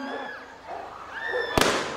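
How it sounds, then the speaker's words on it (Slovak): Single sharp gunshot-like crack during a police tactical demonstration at a town anniversary celebration in Zvolen, standing out loud and abrupt over crowd noise and background murmur. "a zazneli nám výstrely."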